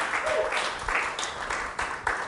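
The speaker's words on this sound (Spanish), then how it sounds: "¿Podemos dar un aplauso al que quiere este tipo de cosas para nosotros?" A church congregation applauds during a Spanish-language sermon, giving a dense, reverberant wash of clapping with uneven bursts that carries on throughout.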